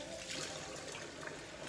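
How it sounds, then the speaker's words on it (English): Running water from a tap streams steadily as blueberries are rinsed during meal prep, a faint continuous trickle with no voices. "And then we're gonna rinse off our blueberries."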